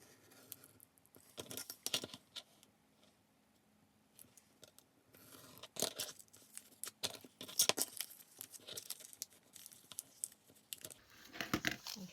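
Scissors snip through two layers of plastic sheet protector along diagonal lines, giving quiet, irregular crisp cuts and crinkles that come and go in short bursts, close up and fairly faint.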